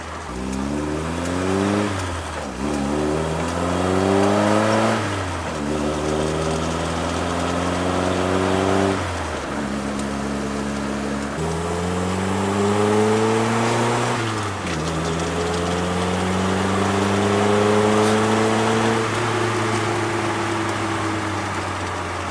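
A Triumph Spitfire fitted with a Monza exhaust revs and pulls away while driving, its loud, droning engine note climbing and falling in repeated rising sweeps, close and continuous with no talk.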